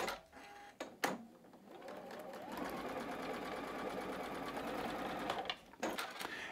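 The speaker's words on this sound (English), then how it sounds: "I'm just going to go ahead and put on this next outside strip first, stitch it down." A sewing machine stitches a strip onto a quilt block of Michael Miller fabric. After a few short bumps and knocks, a steady, close mechanical whirr runs for several seconds, then stops.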